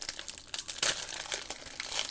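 Plastic sleeves holding new card-making background sets crinkle and rustle in brief bursts as they are handled up close, with a louder crackle partway through and no talking.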